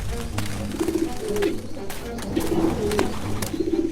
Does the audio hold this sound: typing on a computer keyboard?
no